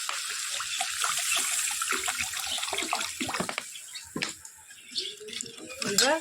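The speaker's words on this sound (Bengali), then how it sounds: "জলটা দিয়ে দিই।" Water splashes and gushes into a cooking pot of sizzling fish curry, a steady pour with bubbling and spattering, fairly close, with someone talking over it.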